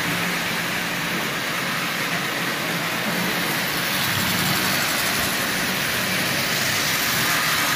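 A decades-old Marx Commodore Vanderbilt toy train motor runs steadily at about half power, a loud continuous whirring buzz with a high whine, close and unbroken with no talk.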